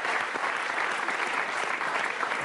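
Studio audience at an Italian televised charity fundraiser for cancer research claps in dense, sustained applause that fills the room evenly from start to finish.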